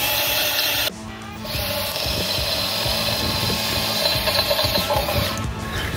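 A power drill fitted with small high speed steel bits bores into steel while building a two post pergola, a steady close motor whine with grinding texture that shifts in pitch as pressure changes.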